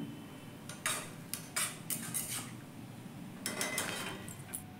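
A vegetable chop filling is sautéed with black salt in a Kolkata-style pan, with a spoon scraping and knocking in several short bursts, fairly quiet and close, with no talking.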